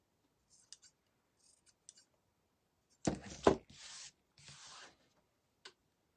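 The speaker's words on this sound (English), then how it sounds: "where you trimmed the knots out, just go over it one more time. Give it a little trim." Scissors snip at a yarn pom-pom for a small craft hat in a few short, quiet cuts, with one longer burst of trimming in the middle and otherwise near silence.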